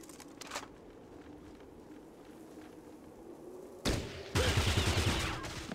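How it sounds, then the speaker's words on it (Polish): Gunfire in the tactical video game Fallout Tactics: after a quiet stretch of low ambience, a sudden loud blast is followed by a rapid burst of close shots that rings out to the end. "Patrzcie, ale piękny strzał"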